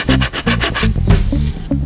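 Hand rasp filing off the small holding tabs along the edge of a CNC-router-cut wooden piece: a burst of six quick, loud, rhythmic rasping strokes close up, followed by a few slower scrapes.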